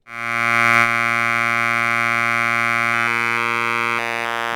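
A sustained buzzy pulsar synthesizer tone at a wider pulse width, with a bright, reedy pulse timbre, swelling in quickly and holding steady, its upper overtones shifting slightly near the end.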